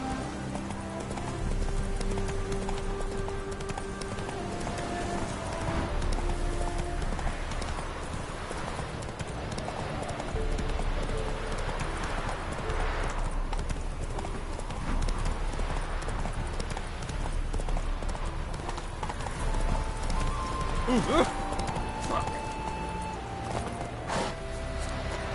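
Geralt's horse Roach galloping in The Witcher 3, a steady rapid clip-clop of hooves running on and on, close and prominent over a low game ambience, with a brief whinny-like sound near the end and no talk.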